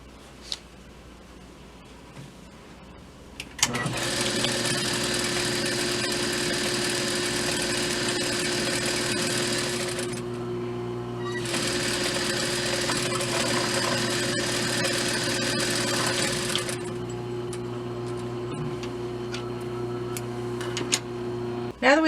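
A serger stitching the side seam of a skirt runs in a steady loud mechanical whir, stopping briefly midway and starting again, with no talking.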